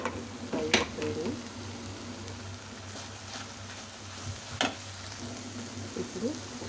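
Tomatoes fry in a pan for mint chutney, giving a steady soft sizzle with a few clinks and scrapes of stirring.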